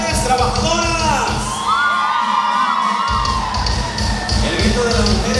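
A wedding dance crowd shouts, cheers and whoops loudly and close by, a dense wall of raised voices and high yells that surges in waves with music underneath.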